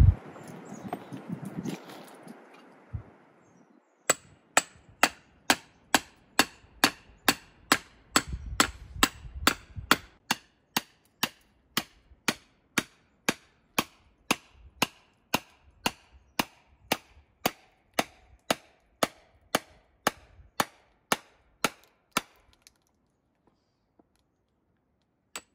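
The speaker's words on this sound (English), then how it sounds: "I'm using a couple of my cutoff tools for my hardy hole and my anvil to split them" Cutoff tools set in an anvil's hardy hole are struck with a hammer to split small straight-grained cedar shake bolts. Dozens of sharp, evenly spaced metallic blows ring out close by, then taper off near the end.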